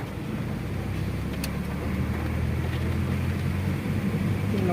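A car engine revs and accelerates during a driving lesson, a steady close rumble with a low droning tone that swells slightly as the throttle opens, with no talking.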